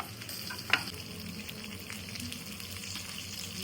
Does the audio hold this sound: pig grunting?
no